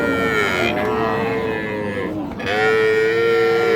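A Sahiwal-breed dairy cow with seven teeth at a busy village cattle market lows loudly and close by, two long drawn-out moos in a row.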